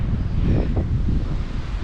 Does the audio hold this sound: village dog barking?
no